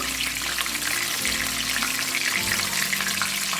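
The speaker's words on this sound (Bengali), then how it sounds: "এটা আস্তে আস্তে আমি ভেজে তুলবো যেন ভিতরে কাঁচা না থাকে" Chicken pieces deep-frying in hot oil over a medium flame for crispy fried chicken: a steady, dense sizzle and bubbling hiss that runs unbroken, fairly close and even in level, with no voices.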